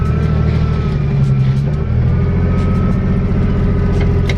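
A Foxbody Mustang with upgraded Cobra brakes and coilovers drives on a test run, its engine a loud, steady low drone heard from inside the cabin.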